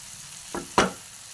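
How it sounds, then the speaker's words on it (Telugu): Brinjal (vankaya) fry being stirred in a pan, heard as two short scraping strokes of a spoon against the pan, the second louder, over a faint background hiss. "వంకాయ ఫ్రై రెడీ అయిపోయింది ఒకసారి కలుపుకొని"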